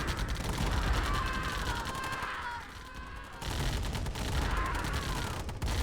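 Dense, continuous machine-gun fire from minigunner infantry in the real-time strategy game Command & Conquer Tiberian Dawn Remastered, loud and rattling throughout with overlapping battle noise and a brief dip midway.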